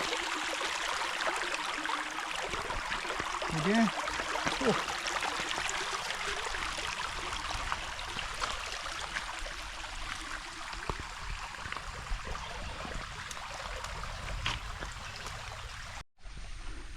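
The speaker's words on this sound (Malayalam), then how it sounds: "കണ്ടോ വെള്ളം ഒഴുകുന്ന ഒഴുക്ക് കണ്ടോ" Water flows steadily in a stream beside a village in Idukki, a continuous broadband rush and trickle that stays constant throughout, with a brief dropout near the end.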